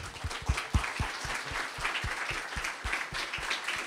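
Audience at an evening talk in Codiverno di Vigonza applauding for a friend present in the room, a steady crowd clapping with a few sharp nearby claps standing out.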